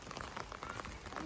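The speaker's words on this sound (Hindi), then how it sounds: "बारिश लग रही है।" Steady rain patters on surfaces outdoors on a foggy, cold mountain route at Devban in Uttarakhand, a dense, even hiss of drops running throughout at moderate loudness with no voices.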